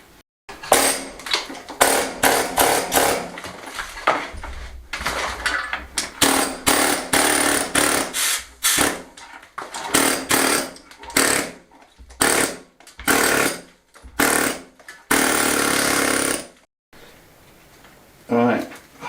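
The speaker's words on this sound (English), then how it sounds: "Right, we've got the air hammer out" An air hammer chipping loose stone from the front of an old bread oven: loud, harsh bursts of rapid pounding, repeatedly starting and stopping with brief pauses, one long sustained burst near the end.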